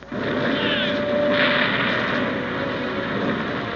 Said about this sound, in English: You hear artillery going up this ridge